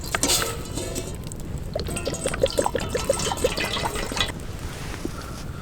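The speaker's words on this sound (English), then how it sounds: "I'm gonna be putting the coffee into my sock and then boiling up some water." Water trickles and drips close to the microphone as it is poured over coffee grounds held in a sock outdoors in snowy winter conditions, a soft, uneven pouring stream with small splashes.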